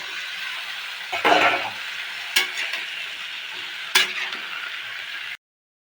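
Vegetables hit hot oil seasoned with onion, garlic, cumin, ginger, mustard and chilli, a bright steady sizzle with a loud burst early on and sharp utensil clanks between, before cutting to silence.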